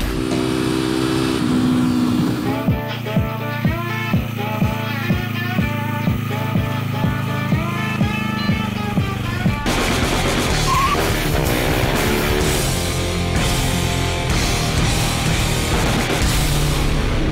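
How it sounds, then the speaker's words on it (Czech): Kawasaki Ninja 250R being drifted, its engine revving hard in steady repeated pulses, then a sustained loud roar with rear tire squeal and skid noise, close and continuous. "Jakmile to člověk pustí do driftu nebo do smyku, tak ta zadní guma řve"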